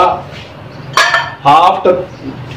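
Spoon or utensil clinking and scraping in a bowl while pakora batter ingredients are stirred together, a few brief close clatters with quiet gaps between.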